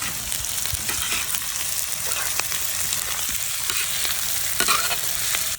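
Shredded cabbage and goat brain stir-fried in a pan, a loud continuous sizzle with repeated spatula scrapes and clatters against the metal, close and without speech.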